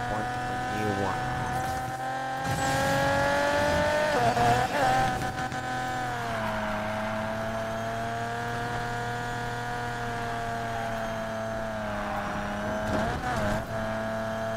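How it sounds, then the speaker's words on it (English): A car's engine races in the video game Need for Speed Payback, a loud sustained whine that climbs and drops through gear changes, with brief tire squeals and skid noises near the start and end. "This car's really fast."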